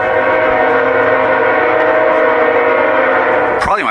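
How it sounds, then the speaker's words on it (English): A train rolls by close and loud with a sustained, multi-tone horn blaring over the steady rumble of rail cars, ending in a brief sharp burst of noise. "Nice train."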